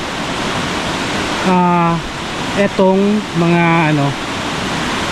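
Strong floodwater rushing past, a loud, steady broadband roar heard from nearby throughout, while a voice speaks briefly over it.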